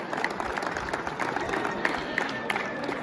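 Audience applause with scattered cheers at a miniature rooster show, a steady crowd clapping throughout, moderately loud with some voices mixed in.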